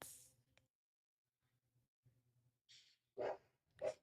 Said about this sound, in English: I'm sorry about the dog, y'all. Please forgive the dog.